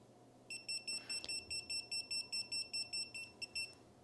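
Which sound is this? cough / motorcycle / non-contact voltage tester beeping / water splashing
non-contact voltage tester beeping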